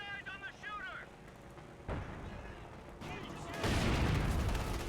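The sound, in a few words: mortar fire in Company of Heroes 2 video game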